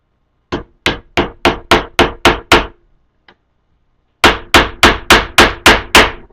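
Upholstery tacks driven in with a hammer, a run of seven sharp, evenly spaced strikes, a pause, then another steady burst of seven close, loud blows with no talking.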